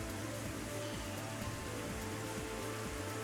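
Rain falling in the video game Robotics;Notes Elite, a soft continuous patter of drops over a steady low hum, even and unbroken throughout.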